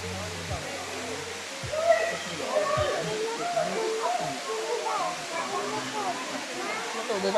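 Hinulugan Falls pours steadily, a broad rushing roar of falling water filling the background at close range while people talk excitedly over it.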